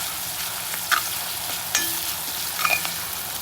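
Onions sizzling in a pan as a vegetable idly kichadi is cooked, a steady soft frying hiss with occasional light scrapes and taps from stirring, no talking.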